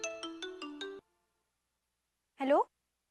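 A phone ringtone of five quick, bright tonal pulses in a household scene, followed after a pause by a short musical-sounding burst, fairly quiet and without talk.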